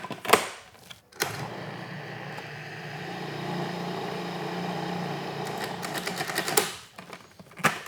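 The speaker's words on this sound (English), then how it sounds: "I'll let the food processor do the job." A food processor churns pasta dough in bursts, a rough buzzing motor drone of several seconds between short starts and stops, close and fairly loud with no talk.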